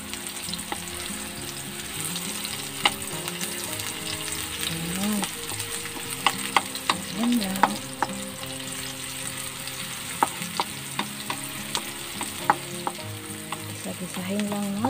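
Garlic and onion sauté in hot oil in a pan for Filipino gisadong bihon, a steady close sizzle with scattered pops and crackles, and no voice heard over it.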